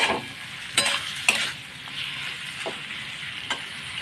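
Chopped bottle gourd sizzles with spices in a pan while a spatula stirs it, a low steady fry broken by several sharp scraping strokes, close and alone.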